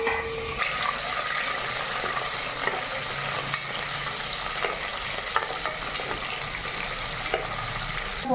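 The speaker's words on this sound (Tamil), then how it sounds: "அப்புறம் வெட்டி விட்டு வெங்காயம், மிளகா, கருவேப்பிலை எல்லாம் போட போகிறேன்" Onion, chili and curry leaves frying in hot oil in a pan for chicken biryani, with a steady loud sizzle and occasional stirring scrapes throughout.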